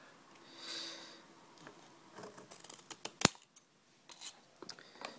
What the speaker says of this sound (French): de découper la partie qui gratte à l'aide de vos ciseaux